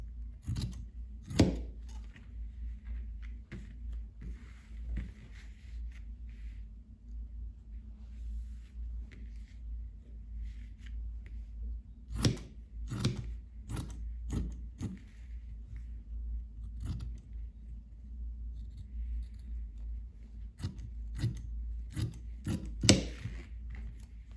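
Scissors trim excess synthetic padding (sintepon) from a sewn children's quilted jacket, giving repeated close, crisp snips in irregular clusters over a low steady hum.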